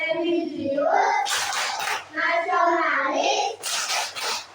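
Classroom children performing a rhythmic PPK clap, bursts of hand claps in patterned groups mixed with young voices chanting along, close and fairly loud.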